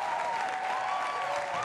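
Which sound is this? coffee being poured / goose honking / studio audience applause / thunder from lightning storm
studio audience applause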